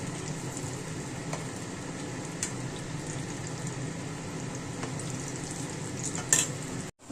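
Eggplant slices fry steadily in hot oil, a continuous close sizzle with a few faint clinks near the end before it cuts off.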